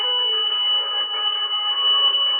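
An emergency alert beacon set off by a duress panic button gives a steady electronic tone with layered harmonics, loud and continuous for a couple of seconds with no voices.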